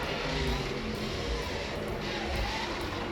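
A Mazda slot car running laps on a DeLeon slot car raceway, giving a steady, continuous motor whir with faint rhythmic clicks, close and fairly loud, no voices.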